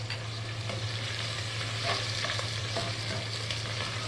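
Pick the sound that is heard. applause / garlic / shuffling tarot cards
garlic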